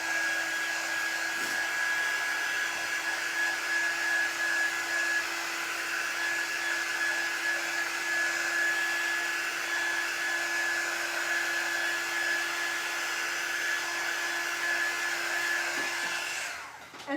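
A hair dryer blows steadily and loudly at close range over a paper lunch bag gingerbread house craft, holding one unbroken whine throughout before cutting off at the very end.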